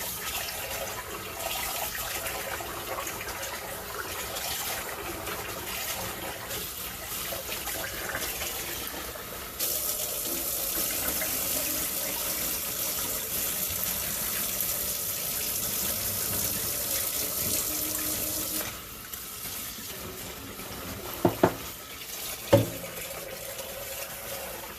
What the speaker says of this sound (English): Go ahead and wash our rice.